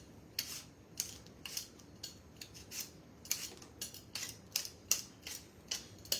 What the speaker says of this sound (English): I'm going to peel my second potato.